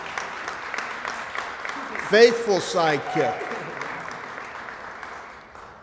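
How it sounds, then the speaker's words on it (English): Crowd applause breaks out at a Pride parade kickoff press conference, a steady mid-level wash of clapping that continues under a voice speaking briefly in the middle. "Let's give them a big round of applause."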